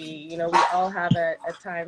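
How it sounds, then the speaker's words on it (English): A pet dog barks once, short and sharp, under a man's ongoing conversational speech that continues around it. "Sorry about my dog there."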